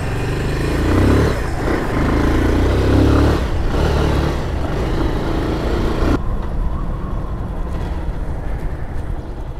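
A motorcycle is test ridden after a repair to its chain adjuster, its engine droning loud and close with surges of revving, then dropping to a steadier, quieter run near the end.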